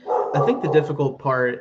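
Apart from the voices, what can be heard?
puppy barking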